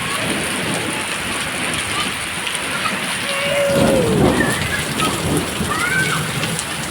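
Heavy rain falls in a loud, steady wash, swelling briefly midway as a low rumble rolls through, with faint tonal calls in the background.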